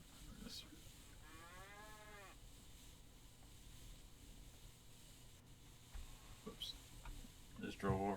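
A cow in the sandbox building game Scrap Mechanic lets out a drawn-out, wavering moo with a rising harmonic sweep. A few soft clicks and thumps from gameplay surround the call over a low ambient bed.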